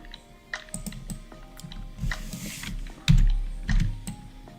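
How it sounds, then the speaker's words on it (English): Typing on a big mechanical keyboard: a steady run of sharp, close key clacks in irregular rhythm, with a few heavier thumps standing out, and no talking. "it's not a touchpad, it's a big mechanical keyboard"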